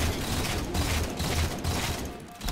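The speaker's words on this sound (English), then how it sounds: "Now, this is called panic reloading" In the Halo 4 Regicide free-for-all match on the Genesis map, a hurried weapon reload in a firefight comes through as dense mechanical clicks and clatter mixed with bursts of gunfire, continuous and close for a couple of seconds.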